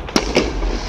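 Distant fireworks bursts, two sharp bangs in quick succession, the second softer, over a steady low background rumble with no talk.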